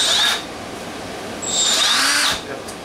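Milwaukee 2522-20 3-inch cordless cutoff saw cutting a ceramic tile, giving a high, whining motor tone in two bursts, a short one first and then a longer, louder cut.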